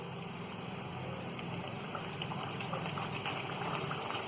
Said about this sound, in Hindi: तो अब हम इसमें ये तेल में बड़ी सावधानी से इसे डालेंगे